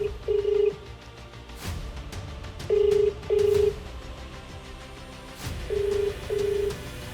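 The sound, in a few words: phone call ringing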